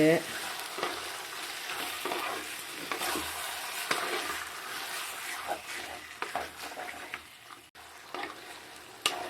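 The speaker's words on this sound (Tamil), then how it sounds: "இதை கொஞ்சம் நல்லா கிளறி விடலாம்." Pallipalayam chicken fries in a clay pot while being stirred, with a constant oily sizzle and repeated scraping, clattering strokes of the spoon against the pot.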